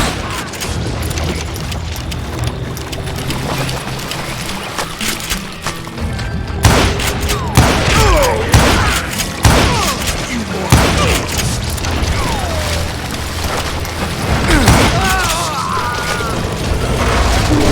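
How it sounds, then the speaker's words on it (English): A gunfire fusillade in the Western game Call of Juarez Gunslinger, with loud, rapid, overlapping shots and booming impacts that build into a sustained barrage, while someone narrates over the shooting. "a fusillade of bullets come raining down from on high"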